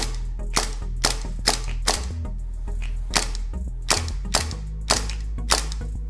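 A KLI M92 gas blowback airsoft pistol, a Beretta 92FS/M9 replica, fires about a dozen sharp cracking shots in an uneven rhythm, close and loud over a steady low background hum, with no talking.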